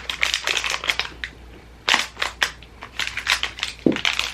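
Scissors snipping through the packaging of a 2022 Disney pin advent calendar, a run of quick close crisp cuts and crunching cardboard in short bursts with brief pauses.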